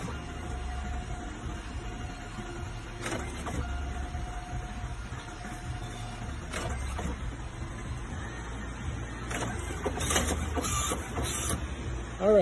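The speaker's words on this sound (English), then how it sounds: "so I hear the printer going right now" A printer connected to a Printio wired print module runs steadily with a mechanical whir, with clicks and paper-feed clatter near the end, close by and fairly loud.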